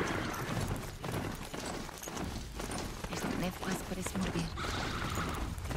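Hooves clop steadily as a horse gallops in the video game Horizon Zero Dawn, a continuous rapid beat under someone talking over game sound.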